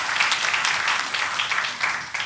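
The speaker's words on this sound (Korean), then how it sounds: "박수 올려드리겠습니다" A church congregation claps during a Korean Sunday worship service as the choir is introduced. The applause from many people is a steady, even wash of clapping in a large room.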